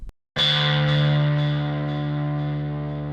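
A single big plucked hit from a sampled harp guitar rings out after a short silence, sustaining with a rich, slowly fading tone.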